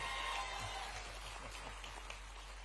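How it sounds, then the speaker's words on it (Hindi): An audience claps at a state-level public event in Bhopal, a soft, diffuse patter of applause that fades gradually and sounds fairly distant. "ताली बजाओ तो अच्छी बजाओ"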